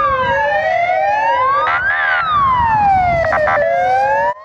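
Fire engine sirens wailing loudly and close at the Fisht stadium during a fire drill, rising and falling sweeps overlapping with a brief horn-like burst, over low road rumble.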